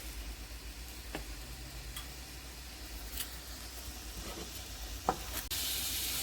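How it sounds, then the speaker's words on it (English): Chopped onions and shrimp sautéing together in a pan, a continuous close sizzle with scattered ticks and scrapes from stirring, growing slightly louder near the end. "And I'm just gonna saute everything."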